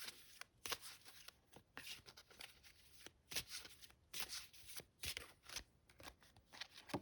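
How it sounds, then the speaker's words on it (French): Tarot cards handled and laid out one after another on a table, a quick run of crisp papery flicks and slaps in an uneven rhythm, close and fairly soft, with no talking. "je vais sortir toutes les cartes"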